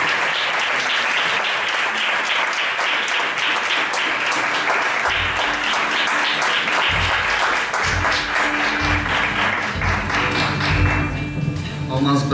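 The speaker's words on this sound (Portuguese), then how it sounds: "vamos aplaudir Jesus por isso" A church congregation applauding during a family worship service, a loud sustained wash of clapping that grows into a rhythmic beat toward the end, with some voices underneath.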